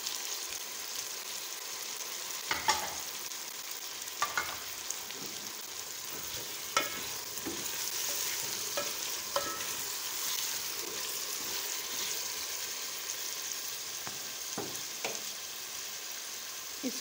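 Spatula stirring lightly fried chicken with tomato, cabbage and carrot in a pan, a soft continuous sizzle broken by irregular scraping knocks, close and steady with no talking.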